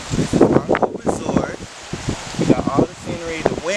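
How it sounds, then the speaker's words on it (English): Gusting wind on an outdoor resort patio, a steady rush and rustle beneath a person talking throughout. "Wind kicking up, but you don't even feel it"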